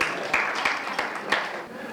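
Shareholders clapping at a company meeting, a steady crowd applause with sharper individual claps breaking through, heard from within the room.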